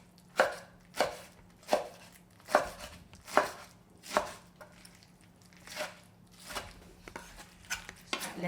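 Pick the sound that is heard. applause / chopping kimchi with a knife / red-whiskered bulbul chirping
chopping kimchi with a knife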